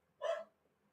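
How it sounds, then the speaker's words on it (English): A single short dog bark, moderately faint and slightly distant, sounds alone against a quiet background. "I don't know if you can hear Sophie barking"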